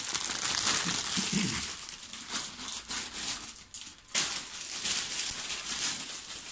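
Plastic and cardboard packaging of an Eaglemoss Marvel Hawkeye figurine being opened, with steady close crinkling and rustling that pauses briefly before resuming, no talk over it.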